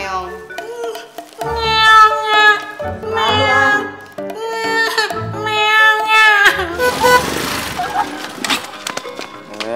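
A cat meows repeatedly in a home, its cries mixed with a voice and other talk, loud and close, with a noisier stretch of clatter and voices toward the end.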